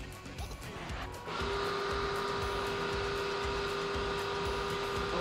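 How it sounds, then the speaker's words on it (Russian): Welding a car shock absorber during repair: a steady, loud electric welding buzz with a constant tone that starts abruptly after a second and holds unbroken to the end, with no speech. "заварить амортизатор после того, как мы приготовили его к сборке"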